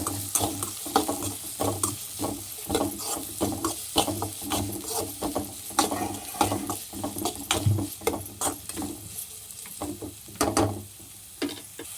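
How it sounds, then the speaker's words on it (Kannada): Chopped green chillies and onion fry in a pan for gobi Manchurian, with a steady sizzle under frequent close spatula scrapes and knocks against the pan, loud and continuous, without speech. "ಇದನ್ನೆಲ್ಲನೂ ಇವಾಗ ಒಂದ್ಸಲಿ ಫ್ರೈ ಮಾಡ್ಕೊಳ್ಳೋಣ."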